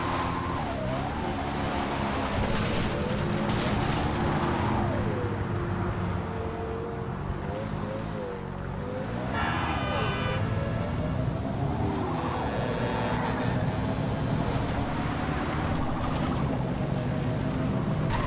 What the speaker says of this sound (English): there's a really strange car that appears to be powered by something odd.